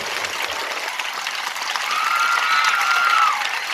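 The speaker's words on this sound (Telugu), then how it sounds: "ఒక్కసారి మీ టీచర్లందరికీ చప్పట్లు కొట్టాల్సిందిగా మిమ్మల్ని కోరుతా ఉన్నాను" An audience at a government school event claps for the teachers, a steady, dense round of applause that swells slightly toward the end and holds without speech.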